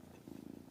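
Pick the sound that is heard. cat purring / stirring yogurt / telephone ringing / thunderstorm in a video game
cat purring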